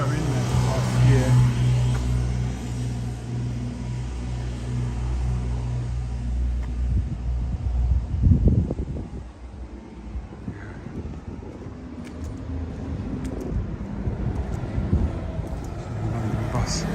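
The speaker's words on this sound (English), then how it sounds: "London bus. You almost think it should be horse-drawn coming up here." A London bus climbs the steep hill at Harrow on the Hill, its engine a low rumbling drone that swells near the middle and fades, mixed with wind buffeting the microphone.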